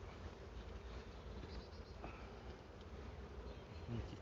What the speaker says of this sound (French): Mais alors derrière, c'est des abeilles.